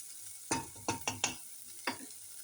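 Eggplant sizzles in hot oil in a pan, with five distinct stirring scrapes over a quiet frying hiss, close and fairly faint.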